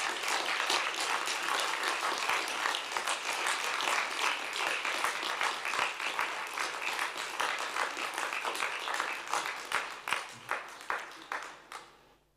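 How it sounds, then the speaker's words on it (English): Audience applause fills a genocide-prevention forum hall in Yerevan, a dense, steady roar of many hands clapping that holds for about ten seconds before thinning into scattered claps and fading out. "let me also ask everyone to give a big applause"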